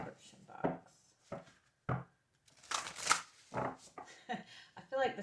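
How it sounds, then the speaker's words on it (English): Tarot cards being shuffled make repeated crisp riffling bursts, close and fairly quiet, in irregular rhythm, with someone speaking between them. "I feel like the shuffling is extra loud right now"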